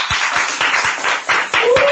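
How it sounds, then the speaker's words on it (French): A church congregation applauds during a morning worship service, with steady rhythmic clapping from many hands, loud and close, and voices mixed in beneath. "est-ce qu'on peut applaudir le Seigneur?"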